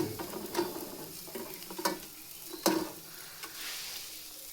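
A North Karnataka vegetable-and-greens talipattu cooks on a pan, giving a soft, steady sizzle with scattered small pops and crackles, heard close and alone.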